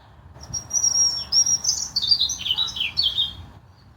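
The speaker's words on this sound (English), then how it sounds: "Say goodbye to the bird." A small bird sings a bright, high warbling phrase of quick chirps and trills at a burial site outdoors, fairly close and clear with no voices.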